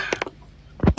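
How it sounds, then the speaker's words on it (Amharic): A door creaking as it opens, with two short creaks followed by a pause and then a louder, lower groan near the end. "አሁን በሩም ሲከፈት ይሰማናል።"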